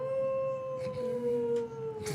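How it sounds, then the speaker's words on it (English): A dog howls in one long, sustained, slowly falling note, close and clear. Light rustling and handling noises sit beneath it. "He has learned how to howl, and here is the proof"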